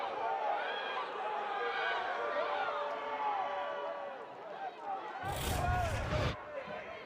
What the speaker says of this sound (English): Crowd starting to get a little more rowdy as this Halloween night goes on in Blacksburg.